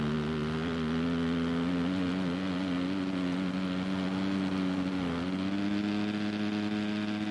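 A factory Honda motocross bike engine from the MXGP 2019 racing game drones steadily and loudly throughout, its pitch holding at a high rev with a brief dip near the end before climbing again.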